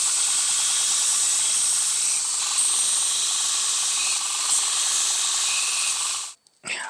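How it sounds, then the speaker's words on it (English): A belt grinder runs steadily as a blade bevel is ground, a harsh continuous high-pitched hiss that cuts off abruptly near the end. "let's go ahead and put the bevel on."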